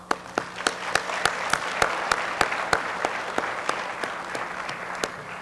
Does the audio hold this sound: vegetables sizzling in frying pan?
no